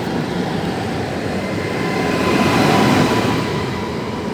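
An Impuls ED78 electric train pulls away from a station bound for Skarżysko, a steady close rumble of wheels and traction that builds slightly in the middle and holds, with no voices.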